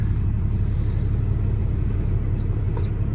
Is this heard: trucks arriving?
yes